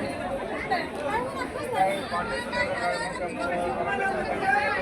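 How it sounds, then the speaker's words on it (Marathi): A crowd gathered at a village site in Indapur, chattering continuously with overlapping voices at a steady, moderate level. "गर्दी केलेली"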